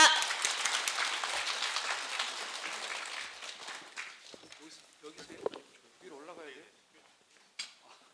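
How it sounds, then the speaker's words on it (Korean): Applause greets a district mayor at a welfare-benefits briefing, a burst of clapping that fades over a few seconds, followed by footsteps, scattered knocks and a voice speaking quietly. "큰 박수로 맞이해 주시기 바랍니다"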